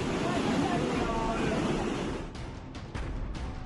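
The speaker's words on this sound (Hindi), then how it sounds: "आप देख सकते हैं कि गंदे भूरे पानी की उफनती धाराएं कई कारों को अपने साथ बहा ले जा रही है।" Muddy brown flood water in Parwanoo, Solan, Himachal Pradesh, rushes loudly and steadily as it carries cars away, a continuous roaring wash with a few sharper gusts near the end.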